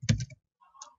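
Quick keystrokes on a computer keyboard while entering a name field in Java JSF code: a short burst of close clicks, a brief pause, then a few lighter taps.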